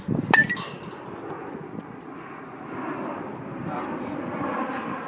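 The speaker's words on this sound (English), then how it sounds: "I'm going to stop for just a second since another jet's flying over" A jet aircraft passes overhead at a baseball practice, a steady broad roar that swells slightly over several seconds, with a sharp clink near the start.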